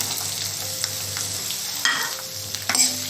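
Chopped onion frying in a pan for a methi matar malai curry, giving a steady sizzle throughout with a few brief clinks and scrapes of stirring, close by with no one talking.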